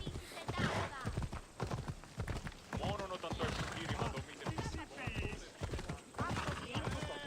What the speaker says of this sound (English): Horse coming out of the way.